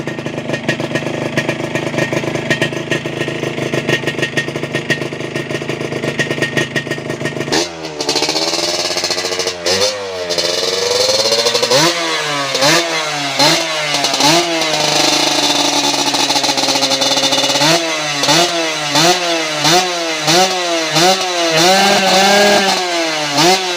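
Yamaha VR150 motorcycle fitted with a new aftermarket exhaust, not yet fully clamped, idling then revving repeatedly in loud close bursts with rising and falling pitch, no talking.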